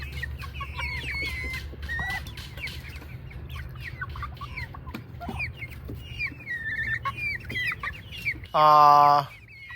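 Chickens cluck and chirp busily up close as they feed, many short overlapping calls, with a louder harmonic squawk near the end.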